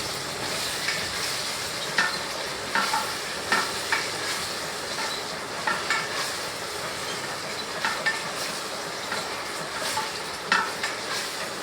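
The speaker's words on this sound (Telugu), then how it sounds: "బటన్ పడినప్పుడు మీరు ఏం చేస్తారంటే ఒకసారి బాగా కలుపుకోండి కూర" Chicken curry stirred in a pot, a wet, bubbling sizzle with rhythmic scraping knocks of the spoon against the metal recurring every second or so, close and steady with no talking.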